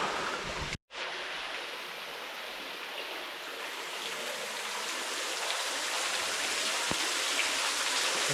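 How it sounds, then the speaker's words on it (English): Water falls steadily in a cold limestone cave tunnel, a continuous broadband rush like a small waterfall or heavy dripping, close and even throughout with a brief dropout near the start and no talking. "Like a waterfall"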